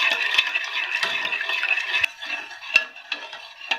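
Besan milk stirred in a pot on the stove, a spoon scraping and swirling in a busy run of strokes, then a few sparse clinks against the pot, with no talking.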